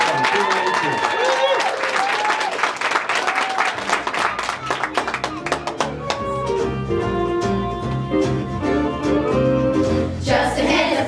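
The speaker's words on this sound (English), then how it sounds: "Let's bring them on once again with a big round of applause." Audience applause for a middle school select chorus at a holiday concert, a broad crowd clapping over the opening bars of music, the clapping thinning as the song gets going.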